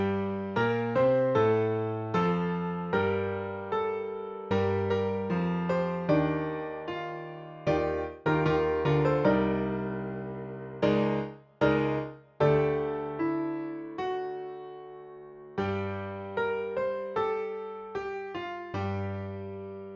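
A small marching band plays the arranged opening hit: a run of loud, rhythmic brass-and-percussion chords with sharp attacks, a few brief breaks and sustained harmonies, heard close with no talk.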